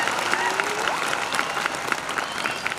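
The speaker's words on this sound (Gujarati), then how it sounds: "ખરેખર તમારા પોતાના માટે એક વાર જોરદાર તાળી પાડો" A crowd claps hard at a live 2022 motivational talk at Swami Vivekanand Sankul in Una, Gujarat, a continuous patter of many hands with sharp individual claps poking through and faint voices mixed underneath.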